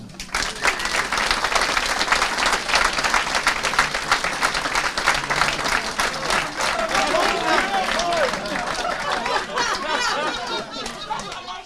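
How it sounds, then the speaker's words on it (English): Sustained applause from a crowd at the Buckmore Park 24 Hours kart endurance race, with dense clapping carrying through the whole stretch while voices chatter and laugh underneath. "big round of applause, please, to Benedict Racing"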